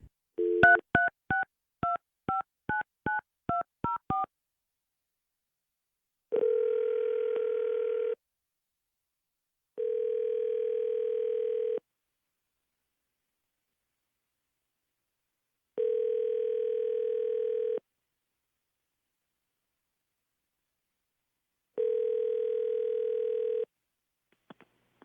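A telephone being dialed: about a dozen quick touch-tone beeps in a fast sequence, then four long, evenly spaced tones on the line while the call connects. Clear, close and steady, with no voices.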